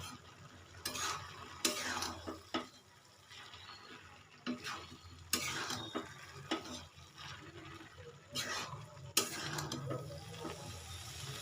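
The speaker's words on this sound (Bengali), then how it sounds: "কাশ্মীরি রেড চিলি পাউডার দিয়ে ভালো করে কষিয়ে নেব" Banana-flower curry sautéing with Kashmiri red chili powder, a soft sizzle under repeated bursts of spatula scraping and stirring against the pan, with a watery splash partway through.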